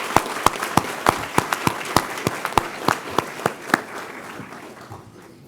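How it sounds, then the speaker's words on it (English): A room of guests claps at a county police academy graduation ceremony, the sound of many hands thinning to a handful of loud, slow, evenly spaced claps that carry on alone and fade toward the end. "Let's give a round of applause to Chaplain Young and also for Judge Anderson for her continued service to the county."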